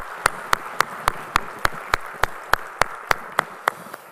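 Rhythmic, evenly spaced claps ring out in a church during Sunday worship, about fifteen sharp strikes in a steady beat, with no talking over them.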